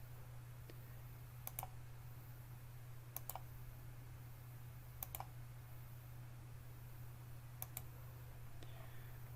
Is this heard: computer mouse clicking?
yes